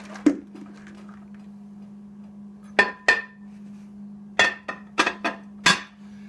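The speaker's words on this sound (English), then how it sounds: "Okay, so now these beans have been rinsed again, and I am going straight to the crock pot with them." Rinsed pinto beans dropped into a crock pot, a few separate clinks and rattling knocks against the ceramic, with a short cluster of hits near the end, over a low steady hum.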